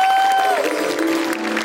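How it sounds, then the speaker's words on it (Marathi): A studio audience at a Marathi comedy show applauds and cheers in a dense, loud wash of clapping that carries on without a break, with a sustained tone sounding over it at the start. "एकदा जोरदार टाळ्या झाला पाहिजेत"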